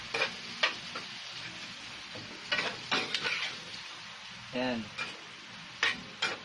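Meat browns in a pan with a faint, steady sizzle under clanks of a stirring utensil, and someone speaks briefly.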